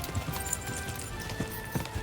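Soft, scattered clip-clop of horse hooves with a few irregular thuds and a faint whinny-like tone, quiet and close over a low steady background hum.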